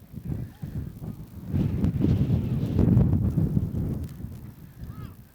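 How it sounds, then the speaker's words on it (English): Steady wind gusting across an outdoor boys' varsity high school soccer field, a broad continuous rumble that swells through the middle, with faint distant voices. "Very windy day."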